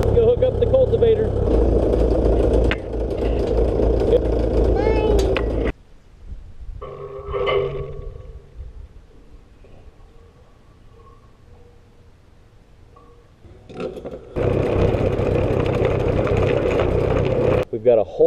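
A 1959 Perkins 50-horsepower diesel tractor engine runs loud and steady, drops to a quieter idle for several seconds, then roars back up to full throttle near the end.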